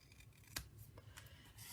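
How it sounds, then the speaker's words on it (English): Scissors snip through a paper die-cut stitched shape in a few quick, close cuts, with a sharp crisp snip near the middle and lighter cuts around it, no talking. "And so now I will finish cutting this out."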